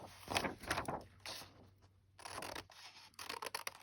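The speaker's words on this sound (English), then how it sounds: "I'm going to cut out the ends. I'm not going to put it on the paper cutter just because I'm a little quicker with my scissors" Scissors snip the paper ends off an envelope up close. Several quiet, crisp cuts and rustles follow one another in an uneven rhythm, with a short pause partway through.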